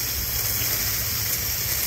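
Water gushing steadily from a garden hose onto backyard plants such as moringa and lemongrass, a loud, continuous close hiss and splash with no break.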